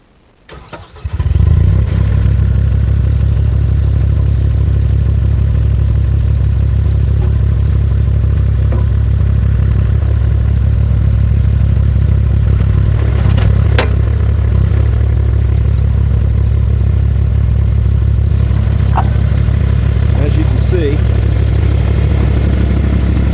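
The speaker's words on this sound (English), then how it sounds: "Let me start it up and show you." A mini skid steer carrying a stump bucket attachment cranks over and fires up, then settles into a steady, loud low idle that holds close by for the rest of the time with no talking.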